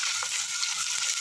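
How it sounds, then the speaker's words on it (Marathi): Finely chopped onion sautés in a pan over medium heat for dal khichdi, a brief, even close sizzle with a light scrape of stirring. "कांदा आपल्याला चांगला परतून घ्यायचा आहे।"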